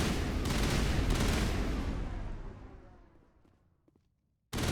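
Sci-fi weapon fire in the video game Mass Effect, a dense burst of shots up close that fades into a long decaying tail before near silence, then cuts abruptly back to loud noise at the end.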